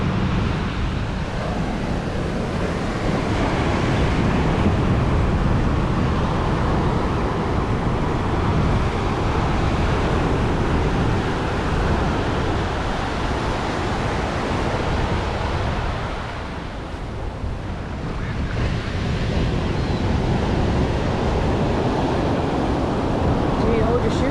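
Broadband surf from waves on a beach at Bucerias, a steady wash that dips briefly midway, with no speech over it.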